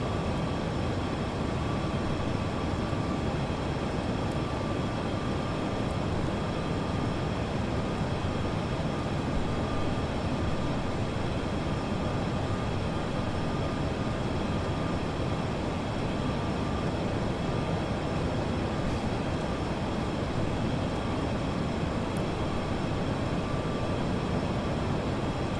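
Steady, loud broadband roar inside the cabin of a Virgin Australia Boeing 737-800 on landing approach into Sydney with gear and flaps down, a continuous engine and airflow drone with a faint steady tone, no voices.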